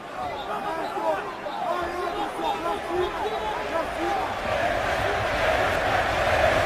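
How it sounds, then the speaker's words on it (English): A packed O2 Arena crowd at a UFC bout between Anderson Silva and Michael Bisping roars and chatters steadily behind their home fighter, a dense, continuous wall of cheering and shouting that swells slightly toward the end. "The crowd getting behind their home fighter here at the O2 Arena."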